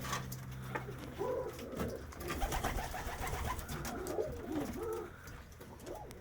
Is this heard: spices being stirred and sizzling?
no